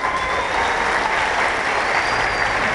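Steady, full applause from a crowd at a live concert, a continuous dense roar of clapping without breaks.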